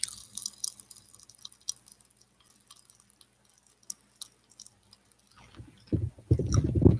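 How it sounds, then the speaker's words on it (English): Lychee-flavoured popping candy eaten close to a microphone ASMR-style: soft, sporadic crackling and wet mouth sounds, then louder, denser crunching and popping toward the end. "Lychee striking popping candy. Let's go full like ASMR."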